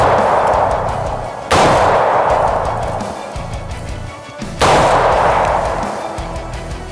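Two loud AR15 rifle shots firing 55 grain rounds into a house wall during a penetration test, each a sharp blast followed by a long rolling echo, spaced about three seconds apart outdoors.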